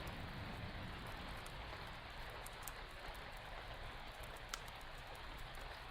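Steady rain falls on a rainy night, an even, continuous hiss with constant loudness and no voices.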